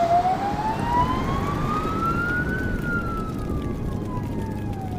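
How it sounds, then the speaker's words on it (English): A siren wails with a long rising then falling tone over steady traffic rumble, loud and continuous. "Then, the roar of a fire, followed by sirens."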